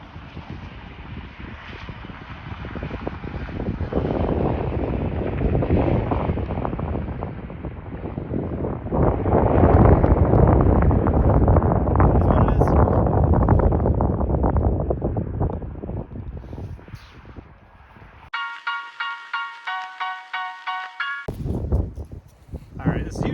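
Strong wind buffets the microphone on a freezing golf course, a loud broadband roar that swells and gusts for most of the stretch before dropping out briefly, with a short tonal beep-like burst near the end.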